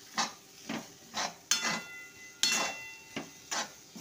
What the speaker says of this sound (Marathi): छान हलवत राहायचं मिक्स होईपर्यंत।